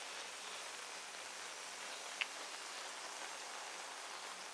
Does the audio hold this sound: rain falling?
yes